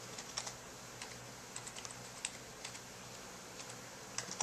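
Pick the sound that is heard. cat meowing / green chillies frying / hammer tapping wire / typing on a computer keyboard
typing on a computer keyboard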